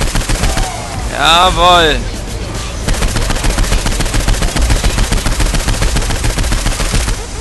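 Dense, rapid gunfire in the video game Saints Row IV, a loud stream of shots running through the whole stretch over game effects, with a sweeping electronic whoosh early on and a voice speaking briefly.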